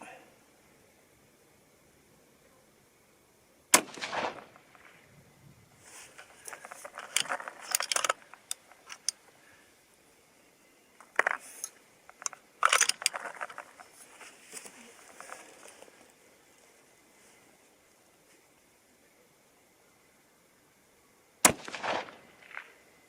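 A Seekins Precision Havak HIT rifle fires during load testing with 100 to 140 grain projectiles: a few sharp, isolated cracks spaced seconds apart, with people talking quietly in the gaps.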